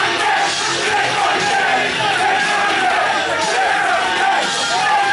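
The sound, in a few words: wrestling crowd chanting and yelling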